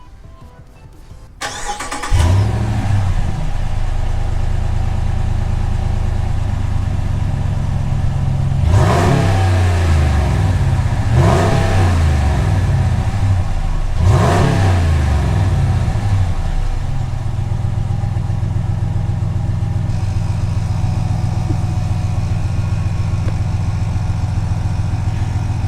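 A stock-exhaust Ram 1500 pickup with the 5.7 Hemi V8 cranks and fires up, settles into a loud steady idle, then blips through three sharp revs before dropping back to idle, with no talking.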